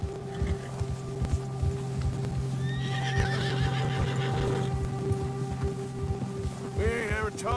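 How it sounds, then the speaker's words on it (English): A horse in the Red Dead Redemption 2 video game whinnies in a couple of bursts over steady clip-clop hoof steps along a trail, under low ambient background sound. "Get that horse in line, Arthur."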